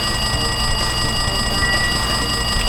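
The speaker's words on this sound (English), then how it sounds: "See, the phone's ringing." Steady, loud electronic ringing from a telephone in the Danganronpa 2 video game, sounding continuously throughout with a faint low hum underneath and no voices.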